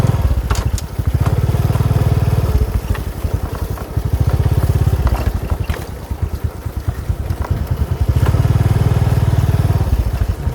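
A motorcycle engine runs steadily nearby on a ride to Kok Po temple in Cambodia, its rapid putter swelling and easing in a few waves, with wind noise over the microphone.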